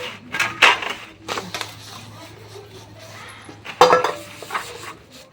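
Two plates, a basin and a bowl are scrubbed and handled during washing-up, giving irregular clinks and clattering bursts between quieter scrubbing, with a person talking nearby.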